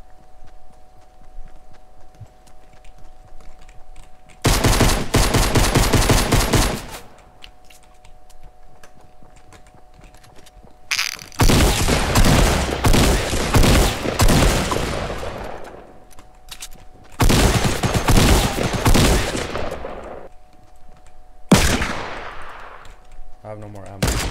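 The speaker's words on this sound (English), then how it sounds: "Somebody shooting at me from the house across." Rapid gunfire from the Fortnite battle royale video game comes in several loud, dense bursts of a few seconds each, separated by quieter gaps, with no talk over the shots.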